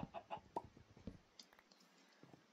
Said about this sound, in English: Did that chicken just lay egg?